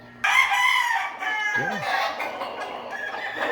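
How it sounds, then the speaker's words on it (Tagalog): A gamecock crows loudly and close, one long drawn-out call, with some clucking and a faint voice underneath. "ganadong-ganado tumukha yung manok ni Doc Geoffrey."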